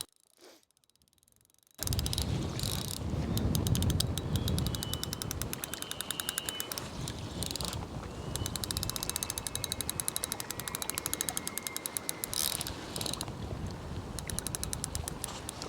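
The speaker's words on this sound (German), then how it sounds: "der Sound von der Rolle" Fishing reel drag buzzes and clicks rapidly while a barbel pulls line in winter, a sudden ratcheting whir that runs continuously with pulsing bursts, close and fairly loud after a quiet start.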